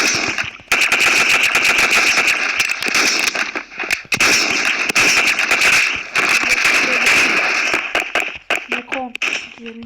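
Rapid automatic gunfire in the mobile shooter Forward Assault rattles in loud, dense bursts with brief gaps, breaking into scattered single shots near the end, while a player talks over it.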